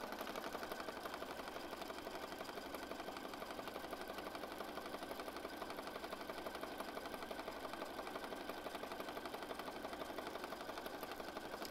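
A sewing machine stitches pages of an oversized eclectic junk journal, a quiet, even mechanical whir and hum running steadily for about twelve seconds without pause or voices.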